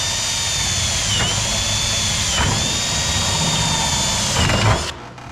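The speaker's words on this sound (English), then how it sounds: "we get an 1/8 inch bit and we drill a hole" A drill with a 1/8 inch bit bores a hole in a metal standing seam roof ridge cap. The whine is loud and steady, pitching down briefly in several short dips as the bit bites, then cuts off near the end.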